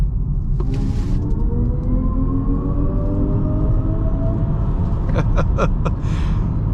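A 2024 Kia EV6 Wind AWD electric crossover accelerates hard at full throttle from about 25 mph, producing a steady rising whine over a constant road and cabin rumble. Brief rattling clicks come near the end.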